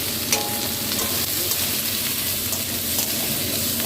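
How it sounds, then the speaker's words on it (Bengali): Capsicum stirred with turmeric in a hot frying pan, a steady dense sizzle with faint scraping of the spoon throughout, close and fairly loud, with no voices. "এবার হলুদটা দিয়ে আমি একটু নাড়বো"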